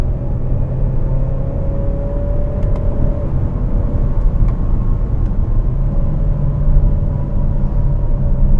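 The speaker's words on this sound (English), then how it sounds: "You do get a little bit of grumble when you downshift." A 2018 Kia Sportage Turbo gives a steady low engine grumble from inside the cabin during a quick paddle downshift, a continuous droning rumble with a slight pitch shift partway through and no voices.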